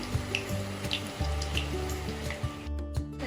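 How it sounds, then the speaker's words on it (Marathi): Bread vada frying in hot oil gives a steady sizzle and bubbling throughout, with a faint rhythmic undertone beneath it. "तर छान असं हे लाल होईपर्यंत तळून घेऊया"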